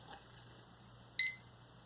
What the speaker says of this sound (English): Do you hear that beep?